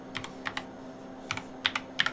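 Quick, light clicks of a computer keyboard being typed on at a desk, coming in short irregular bursts of a few keystrokes, close and fairly quiet over a faint steady hum, with no voice.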